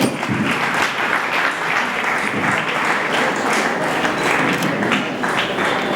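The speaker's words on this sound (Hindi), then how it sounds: "तो आपकी तालियां रुकनी नहीं चाहिए" An audience at the inauguration of a yoga foundation in Badlapur applauds steadily and densely as chief guests are welcomed with flower bouquets, a continuous mass of clapping from start to finish.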